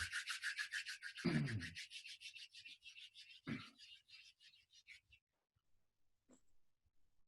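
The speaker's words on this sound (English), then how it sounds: "you might want to just give your hands a little rub together" Palms rubbing briskly together in a quiet room, a rhythmic close swishing that holds steady for several seconds, then slows and fades, with a couple of soft breaths and taps.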